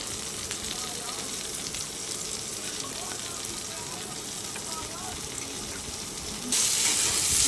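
Ginger, green chilli and radhuni spice sizzle steadily in a hot pan while aubergine and chapila fish curry is cooked, a continuous close frying hiss that grows slightly louder and brighter near the end.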